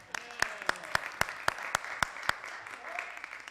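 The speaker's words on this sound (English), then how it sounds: "shall we give him a round of applause?" A small group applauds at a council meeting, with a few sharp, evenly spaced claps standing out above a softer patter of hands, moderately close, while a voice talks faintly underneath.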